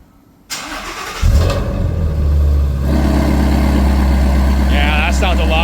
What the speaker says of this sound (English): here's the first startup with the H pipe